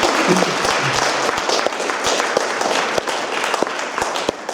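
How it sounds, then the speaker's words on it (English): Audience applause at a talk on secularism, a burst of clapping from a seated crowd that carries on steadily for several seconds at moderate loudness, fairly close. "Please give Megan another big round of applause"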